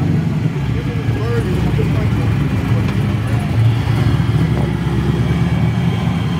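An old car engine runs steadily and loudly with a low, rough rumble at a Cars and Coffee car meet, with people talking faintly in the background.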